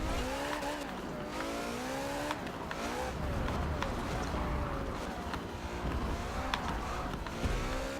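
A race car engine in Forza Motorsport 7 revs and climbs through gears with rising whines, with brief tire squeals and skids as it corners, while a person talks over it.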